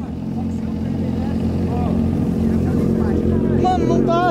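Honda Hornet motorcycle engine held at loud, sustained high revs with the clutch being burned, a steady droning roar throughout with people talking over it.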